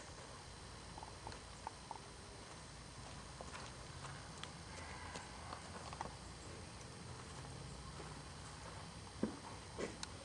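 Horse hooves clip-clop in scattered, irregular beats near a white vinyl jump, soft and moderately close against steady outdoor background noise, with a couple of sharper knocks toward the end.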